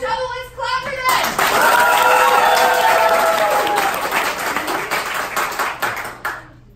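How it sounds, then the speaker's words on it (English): A group claps together after a short voice, a loud, dense burst of clapping lasting several seconds before tapering off, with scattered voices mixed in. "Let's clap for this!"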